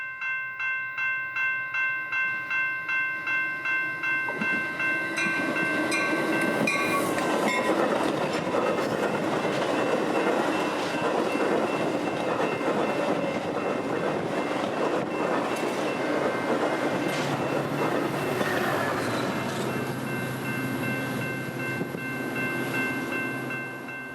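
A Metra commuter train passes by the tracks amid wildflowers, starting with rhythmic clickety-clack wheel beats, then a loud sustained rumble and rolling roar as the cars go past.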